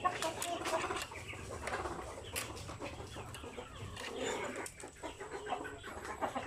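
Native chickens around a brooding hen in a farmyard coop, with soft clucks and bird calls scattered over steady outdoor background noise, moderately faint and without talk.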